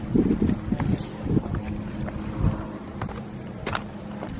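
A family boat on the water, heard as a steady low rumble with wind buffeting the microphone and occasional knocks and splashes, no voices present.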